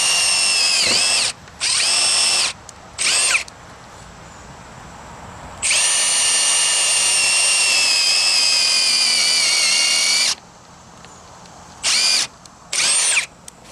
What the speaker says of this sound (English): we're going to put the countersink drill in. Alright, so we'll go over here. We're going to drill 2 holes